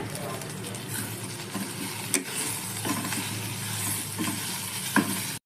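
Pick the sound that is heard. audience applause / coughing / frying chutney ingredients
frying chutney ingredients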